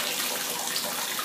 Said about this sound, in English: Let's just turn on the water.